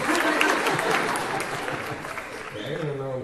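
Audience applause at a fan Q&A panel with actors, a broad dense clatter of clapping that stays steady and loud throughout, with some crowd noise and a brief voice near the end.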